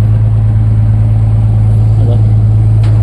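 Suzuki Wagon R with an R06 turbo engine running steadily at idle, a constant low hum filling the clip with no change in pace, a faint voice briefly in the background.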